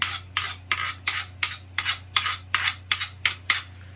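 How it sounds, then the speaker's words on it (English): A knife edge is scraped across a stainless steel part in about ten rhythmic, evenly spaced rasping strokes, loud and close, with no talking. "Just using some stainless steel part of a knife here to dull it up a bit"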